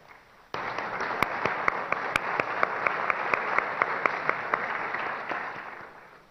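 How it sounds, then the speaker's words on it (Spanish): Applause from the audience at a televised 2015 presidential candidates' forum starts abruptly and holds steady for about five seconds, with sharp individual claps standing out above the wash before it fades. "para los cuales les pido un aplauso"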